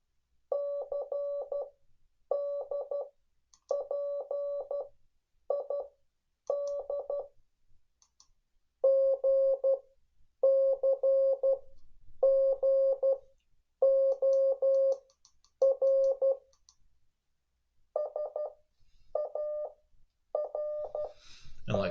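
Morse code practice tones: clean, steady beeps in groups of short and long pulses, each letter followed by a pause, repeated for many letters at moderate volume with faint clicks in the background.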